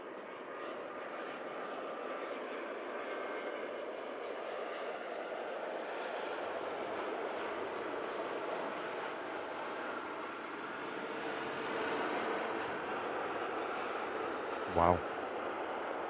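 A Qatar Airways Airbus A350 arrives at Manchester Airport with a smooth, distant jet engine roar that holds steady and swells slightly toward the end, interrupted by a brief sharp click near the close.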